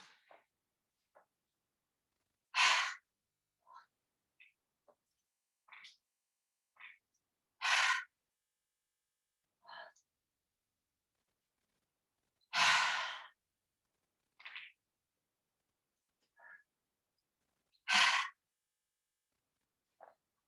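Slow, deep exhales during an evening yoga breathing exercise, each long breathy sigh spaced several seconds apart, close and clear, with softer shorter breaths in between and no talking.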